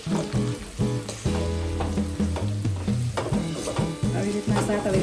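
Lapsi, Gujarati cracked-wheat dessert, being sautéed in ghee over a low flame, with repeated scraping strokes of a spoon against the pan in a loose rhythm over a soft, continuous sizzle, close and clear.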